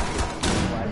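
A flashbang grenade goes off in the video game Rainbow Six Siege, a loud, dense burst of noise filling the whole second without a clear break.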